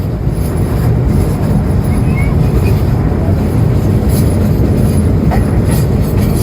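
The Drutojan express train from Panchagarh toward Dhaka passing near Mangalpur railway station in Dinajpur, a loud steady rumble of rolling carriages with faint rhythmic wheel clatter and squeal.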